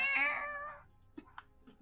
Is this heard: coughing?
no